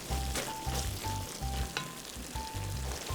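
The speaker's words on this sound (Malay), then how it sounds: "Kacau bagi sekata dan mendidih." A spoon stirs through a boiling, sizzling macaroni sauce in a pan, with soft rhythmic scraping strokes.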